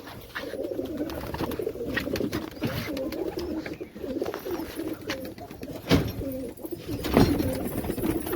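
Pigeons coo steadily at a loft where birds are being readied for a summer pigeon-racing tournament, a dense overlapping murmur of low cooing throughout, with a couple of louder nearby bursts and some fluttering.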